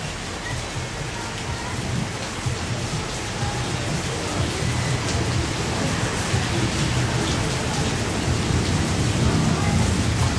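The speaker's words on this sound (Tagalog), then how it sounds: "Nagalit ang ulan." Heavy rain pours steadily throughout, a dense, loud hiss with low rumbling thunder beneath it and no clear voices.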